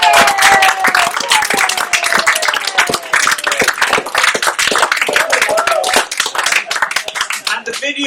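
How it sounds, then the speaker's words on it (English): Loud, dense applause from a music hall audience after a final performance, continuous fast clapping with voices calling out over it. "I think we need to give them a massive round of applause."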